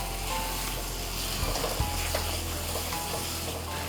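Spicy beef roast fries hard on a high flame, giving a dense, continuous sizzle. A few scrapes and clinks of stirring cut through midway.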